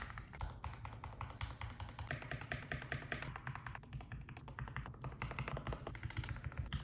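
Rapid, continuous typing on a Keychron K8 Pro mechanical keyboard, a dense patter of quiet clicky, marbly keystrokes heard close up with no voices.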